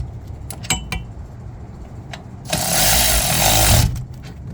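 Rear brake caliper bolts on a 2017 Honda Civic are being tightened with a ratchet, which gives a few sharp metallic clicks and then a steady, loud rasping burst of about a second and a half, close by and with no voices.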